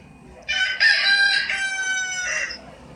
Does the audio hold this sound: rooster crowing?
yes